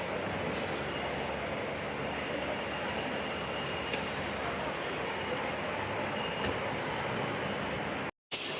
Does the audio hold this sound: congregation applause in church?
no